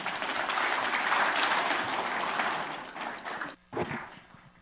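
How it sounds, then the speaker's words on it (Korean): Audience at a map day commemorative lecture event claps in sustained applause that gradually tapers off after a few seconds. "큰 박수 부탁드리겠습니다."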